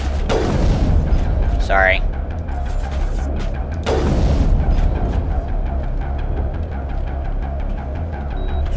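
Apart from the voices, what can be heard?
sniper rifle shots in the video game Mass Effect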